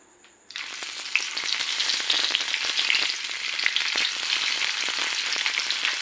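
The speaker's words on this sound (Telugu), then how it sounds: "ఇప్పుడు ఆయిల్ కాగిందనమాట ఈ కాకరకాయలని ఇందులో వేసుకుందాం" Stuffed bitter gourds hit hot oil after a brief quiet moment, setting off a loud, steady sizzle with fine crackling pops that holds up close to the end.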